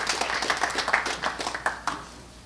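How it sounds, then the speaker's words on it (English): Audience applause at a boxing press conference for fighter Evgeny Gradovich, a scattered patter of claps from a modest crowd that rises briefly and then thins out. "Please give a round of applause to Evgeny Gradovich."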